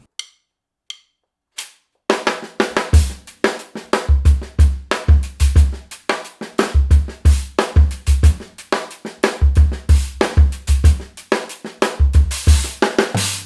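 A drum groove with kick, snare and crisp hi-hat strokes plays at a steady tempo, the last left-hand stroke on the ah of 4 moved to the hi-hat, preceded by a few sparse clicks.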